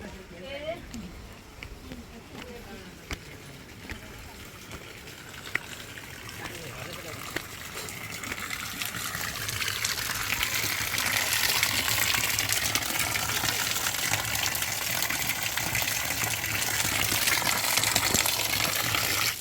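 Cold water rushing steadily outdoors near a Vishnu Paduka temple, a broad continuous gush that grows louder and fuller partway through, with voices talking over it.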